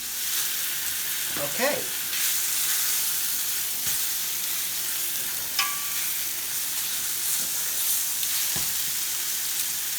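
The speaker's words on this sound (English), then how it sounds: "A couple of tablespoons of olive oil, just so that you can get a good sear on the meat" A beef roast searing in a couple of tablespoons of olive oil in a hot pan gives a loud, steady sizzle with occasional spits and scrapes, and a voice speaks one short word partway through.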